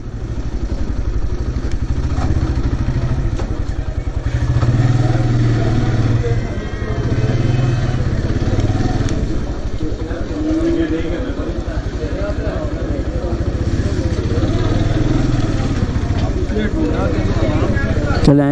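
A motorcycle rumbles close by through a busy market street, its engine churning steadily with small revs and traffic clatter around it, while someone talks over the ride throughout.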